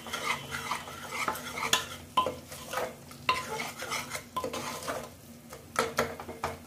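Metal spoon scraping and stirring masala for paneer curry in a pan with steady clinks, over a soft sizzle of frying; no voices.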